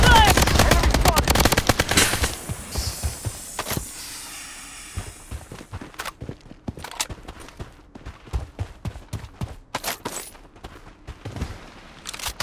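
Rapid automatic gunfire bursts loudly in the Blood Strike shooter game, a dense volley at first, then scattered single shots and short bursts continuing at varying distances.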